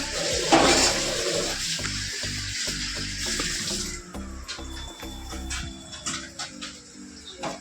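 Water runs from a kitchen tap while dishes and utensils are scrubbed and washed, with a strong rushing stream at first, then quieter water and close clattering of plates and metal.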